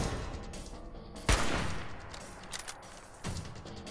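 Gunshots from a .308-caliber rifle in the video game Fallout 4: a sharp loud shot, then another a couple of seconds later, over steady game background noise.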